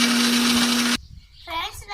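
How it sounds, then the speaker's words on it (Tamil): An electric mixer grinder whirs loudly at high speed while blending amla (Indian gooseberry) for juice, then cuts off abruptly after about a second, followed by faint background sounds and a brief voice. "இருங்க, மிக்சியில் போய் அடிச்சுட்டு வந்துடுறேன்."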